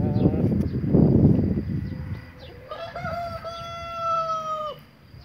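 A Brahma rooster under treatment clucks close by, with low handling noise at first and then a few drawn-out, strained calls.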